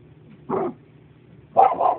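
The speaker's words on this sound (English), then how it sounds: "He can bark." Two short dog barks, the first alone and the second a quick double yap about a second later, close by over a quiet background.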